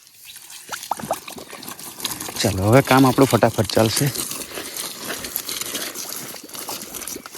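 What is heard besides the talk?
water flowing from pipe for watering plants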